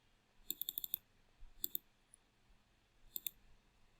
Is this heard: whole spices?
no